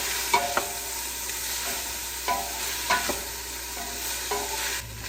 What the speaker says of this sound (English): Oil is really hot now, so it's gonna cook our onions really good, get them tender and translucent.